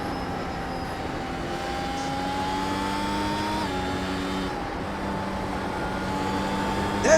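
F1 race car engine in a racing video game at the Red Bull Ring, a steady, smooth high-pitched whine holding tone with slight pitch shifts and a small rise near the end.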